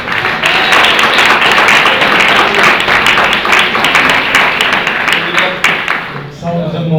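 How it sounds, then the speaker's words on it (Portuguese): A congregation claps in rapid, steady rhythm during an evangelical church service, loud and close, while a voice speaks over the applause before the clapping fades out. "As palmas alegram o Senhor."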